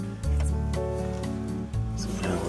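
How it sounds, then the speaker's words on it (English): A wooden egg cup being sanded on a wood lathe: a steady humming motor drone with a dip and restart midway, and faint rubbing friction over the spinning workpiece. "And it's sanding time."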